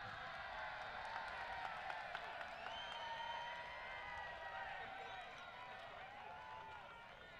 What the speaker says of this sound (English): It was like the ironic cheers from the crowd.